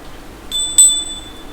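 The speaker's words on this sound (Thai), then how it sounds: "เดี๋ยวอาจารย์สั่นกระดิ่ง" A small hand bell is shaken by a Thai fortune teller, giving a bright ringing strike that briefly peaks and then trails off into a sustained tone.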